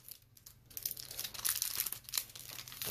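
Foil wrappers on Topps Update baseball card packs are torn open and crinkled close up, a quiet run of crisp rips and crackles with no talking.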